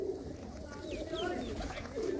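Pigeons coo softly among fancy breeds in a home loft, a low steady murmur of several birds with a few higher calls over it, no voices in between.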